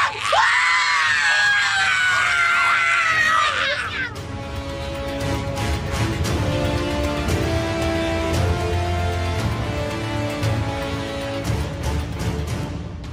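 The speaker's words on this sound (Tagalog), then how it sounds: "Umalpas ang napakalakas na sigaw" A woman screams loudly and sustainedly for about four seconds in a dramatized horror tale, then the scream cuts off into a low, ominous musical background.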